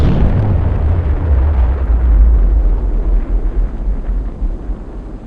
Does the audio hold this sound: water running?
no